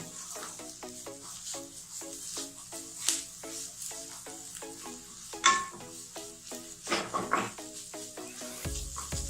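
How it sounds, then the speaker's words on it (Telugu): Beetroot sizzles in ghee for halwa while a spoon stirs it in rhythmic scraping strokes against the pan. The sound is steady and close, with a sharper clatter partway through. "ఇలా పచ్చివాసన పోయే వరకు కలుపుతూ తిప్పుతూ వేయించుకోవాలి."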